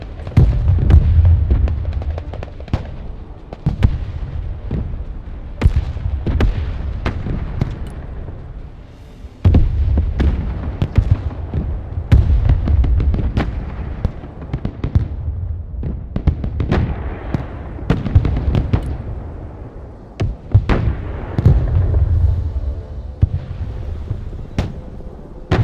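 Mortar fire and explosions in the strategy game Broken Arrow, a long loud barrage of booms, blasts and crackling impacts in irregular clusters over a continuous low rumble, with no talking.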